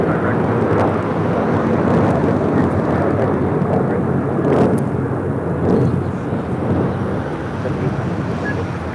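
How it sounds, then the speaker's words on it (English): A United Airlines Boeing 737-900ER takes off at LAX, its loud, broad engine roar holding steady throughout amid wind buffeting on the microphone. "This is United Airlines 1278 taking off to Cancun on a 737-900ER."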